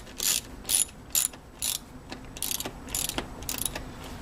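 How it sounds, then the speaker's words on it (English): Ratchet wrench snugging the bolts of a plastic throttle body on a Jaguar XJ8 Vanden Plas, heard as several bursts of quick clicking strokes separated by brief pauses, close and clear with no talking. "ratchet to snug those down"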